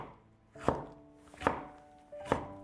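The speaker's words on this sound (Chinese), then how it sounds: "再将西红柿切成厚片" Knife cutting a tomato into thick slices on a board: three crisp, evenly spaced chops about a second apart, each a sharp thud with a short tail, close and clear with no talking.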